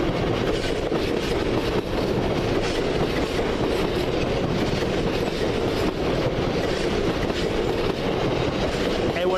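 A coal train hauled by locomotive 66531 rolls steadily past at close range, its wagons giving a continuous loud rumble with rhythmic clickety-clack from the wheels and no break for the full length.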